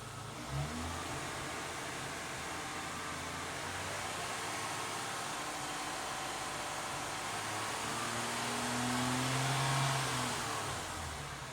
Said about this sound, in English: What I'm going to do now is bring it up to about 2000 and then 2500